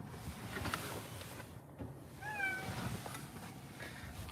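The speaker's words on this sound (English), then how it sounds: "you hear any cries? That's my cat." An injured pet cat with a broken leg gives a short, strained meow that rises then falls, fairly close but faint over a steady hum of room noise.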